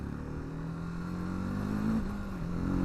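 A TVS Apache RTR 310 motorcycle engine runs steadily at a low idle-like rumble, close and continuous, with a slight rise in pitch midway; no voices.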